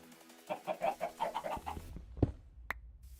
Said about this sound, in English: grab a cardboard box and pick up this chicken spawner